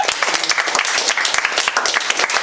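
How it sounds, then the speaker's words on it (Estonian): A studio audience gives a big round of applause at a live Estonian quiz show, Ruutu10, loud dense clapping that continues steadily throughout. "teeme suure aplausi"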